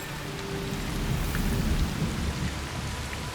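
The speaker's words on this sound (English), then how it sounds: "I would like it to stop raining" Steady heavy rain with a low rolling rumble of thunder in Assassin's Creed Shadows, a dense continuous wash of sound with no voices.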